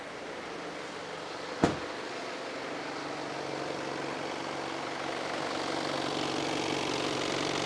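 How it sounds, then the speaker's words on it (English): A car engine starts and runs at a steady idle while warming up to bleed air from the cooling system, with a sharp click early on and a constant broad rumble that grows slightly louder toward the end. "I've just started the engine up, so we'll let the engine warm up now"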